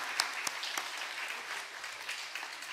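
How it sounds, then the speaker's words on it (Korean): A church congregation at a Sunday afternoon service claps together in a moderate, continuous round of applause, with a couple of sharper claps standing out early on. "박수로 하나님께 영광 올려드립니다"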